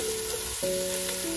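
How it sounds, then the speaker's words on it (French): Onions frying in butter in a pan, stirred, give a steady close sizzle with a faint tonal hum running underneath throughout. "Continuer à mélanger sans les boulettes."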